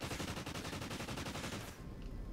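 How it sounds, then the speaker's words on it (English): Rapid automatic gunshots from the Call of Duty: Ghosts video game, a fast steady burst of shots that cuts off abruptly near the end, fairly faint overall. "No! You shot Riley!"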